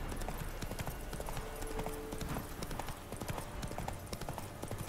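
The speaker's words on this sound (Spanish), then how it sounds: "Este caballo siempre sale del peor lugar." Horse hooves pound in a steady galloping clatter in The Witcher 3 Next Gen, continuous and up front over a noisy game background, with no talk heard.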